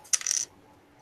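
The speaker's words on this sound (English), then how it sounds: "And I need some dice." Dice rolled on a table during a tabletop role-playing game give a short rattling clatter, followed by a faint single click a moment later.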